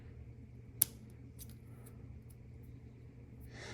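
A single quick snip of scissors trimming the tag ends of fishing line on a live bait rig, one sharp close click over a quiet background hum.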